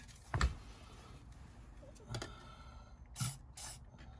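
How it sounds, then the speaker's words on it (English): WD-40 sprayed into an injector bore on a Bayliner 4588 boat engine: three short, close hissing bursts of spray separated by quiet gaps, heard alone without talk. "I do need to spray some WD in there anyway."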